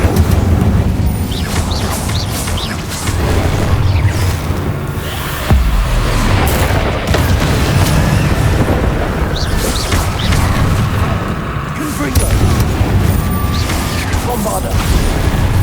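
Incendio fire spells in Hogwarts Legacy burst repeatedly through a dense, loud game-combat mix, with booming impacts and crashing hits piling up over fifteen seconds and a sharp thump midway.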